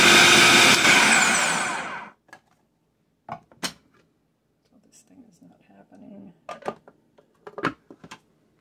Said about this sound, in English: the first time I use a food processor